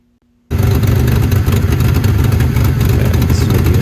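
A restored 1989 Pontiac Firebird engine bursts into a loud rev after a brief near-silence, then holds a rough, throbbing note with steady pulses, close by and alone.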